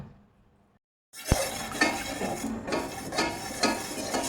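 Rice flour paste and water stirred in a pot for appam: after a brief quiet start, a spoon scrapes and knocks against the pot in steady, close strokes with a faint bubbling underneath.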